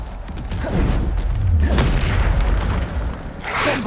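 Bombarda explosion spell in Hogwarts Legacy, loud deep booms rolling one into another over several seconds, with a fresh blast near the end.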